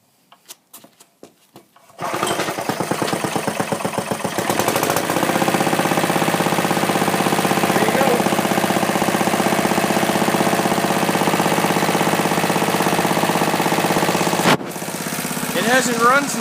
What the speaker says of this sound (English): Nice little engine. Let it warm up